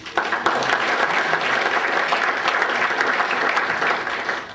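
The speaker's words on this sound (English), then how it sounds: "can we give him a little round of applause?" Steady applause from an audience at a West Point award ceremony fills the room, a dense patter of clapping that holds at an even level throughout.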